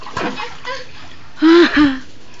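A child's hand slaps into bath water, giving two short splashes after a moment of quieter sound, close by and fairly loud, with faint voices earlier in the clip.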